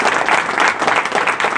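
Hearty applause from a seated audience at a direct-selling interview event, many hands clapping in a thick, continuous wash that stays strong and close throughout without any talk over it.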